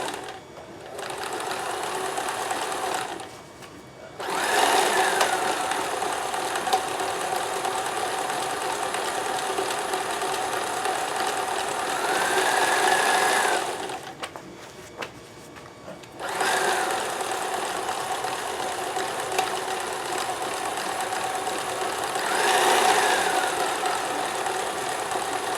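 A Kenmore 158.1914 sewing machine stitches a repair on a cardigan sleeve, a steady close mechanical whir running in long stretches with two brief stops between runs.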